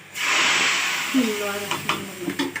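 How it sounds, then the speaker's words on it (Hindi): A sharp burst of sizzling as golden-brown garlic tempering hits hot oil for kadhi pakora, loud at first then settling into a crackling hiss while a person talks over it. "अब हम इसमें देंगे तड़का"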